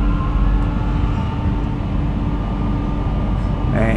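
Suburban passenger train on Brisbane's line out of Sandgate toward Shorncliffe, a continuous close onboard rumble and hum from start to finish without a break.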